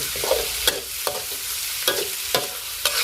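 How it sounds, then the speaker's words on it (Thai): Pork pieces stir-fried in a pan for a holy basil pork dish give a steady, close sizzle, with a sharp spatula scrape about every half second. "เอาหมูที่เราเตรียมไว้ลงไปผัด นี่ผมใส่หมูหมูชิ้น"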